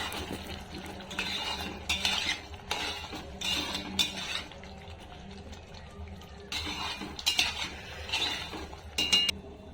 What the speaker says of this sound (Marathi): त्यात पनीर घालून मिक्स करून घेऊया